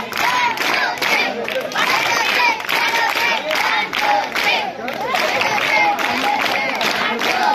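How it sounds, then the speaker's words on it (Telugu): Students at a school felicitation and clothes-distribution ceremony clap in several bursts of loud group applause, mixed with crowd noise and a voice speaking over it. "So students clap 1, 2, 3. 1, 2, 3."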